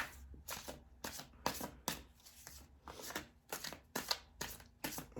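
Tarot cards are shuffled in a quick series of crisp riffles and flicks before one more card is pulled, close and fairly soft, with no talking.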